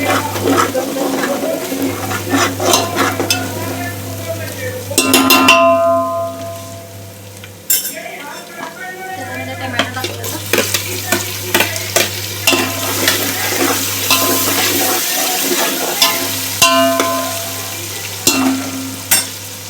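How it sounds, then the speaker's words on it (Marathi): Ginger and garlic sauté in a pan while a utensil stirs them, giving a steady sizzle with repeated scraping and clinking strokes throughout. A low steady hum runs underneath, and nobody speaks. "आलं लसूण छान असं परतलं गेले"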